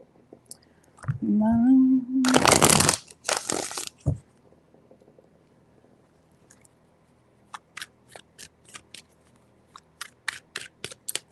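A deck of tarot cards is shuffled in two loud, brief riffling bursts, followed by a scatter of soft, quick card taps and clicks. A short voice is heard just before the shuffling.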